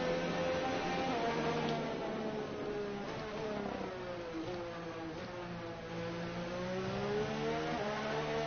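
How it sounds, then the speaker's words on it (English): A Honda Formula 1 racing car engine in the video game F1 2019 screams at high revs, pitch rising and dropping through gear changes, continuous and loud with a thin, slightly muffled tone. "I do love the Honda engine noise."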